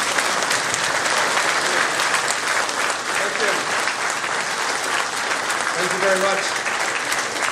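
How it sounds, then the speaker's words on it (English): A crowd at a union hall gathering gives loud, sustained applause for a politician, continuous clapping filling the room while someone speaks briefly over it. "And a big round of applause for John."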